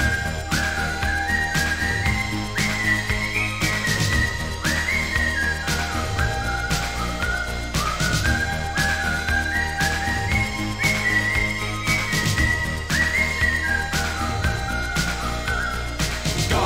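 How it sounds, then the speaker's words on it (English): Someone whistles a lilting tune over steady background music, the melody rising and falling in repeated phrases. "Big Willy won't catch you if you whistle this tune"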